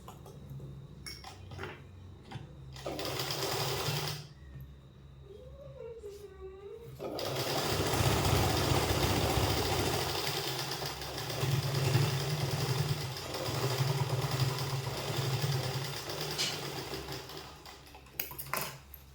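A sewing machine stitches a twelve-panel kali palazzo, running in a steady close whir after someone speaks briefly, the motor pulsing as the seam is fed through.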